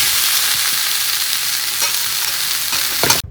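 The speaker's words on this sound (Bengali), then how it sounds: "এখানে আলু ফুলকপি টোফুটা একসঙ্গে ভাজা করে নিচ্ছি" Potato, cauliflower and tofu frying together in a pan give a steady, close, loud sizzle that runs throughout, with a brief stir or scrape near the end.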